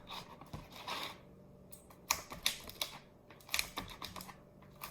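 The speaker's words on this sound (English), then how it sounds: "Dice it up into some nice strips." A knife slicing a boiled egg into strips on a cutting board, giving a series of short, crisp taps and cuts in an irregular rhythm, close and fairly quiet with no talk.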